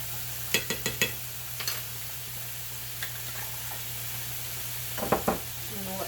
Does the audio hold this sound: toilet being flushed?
no